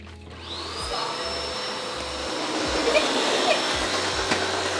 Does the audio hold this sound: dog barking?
no